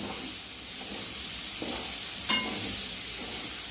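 Onion frying in a pan over full gas, a steady close hiss and sizzle with a couple of brief stirring scrapes.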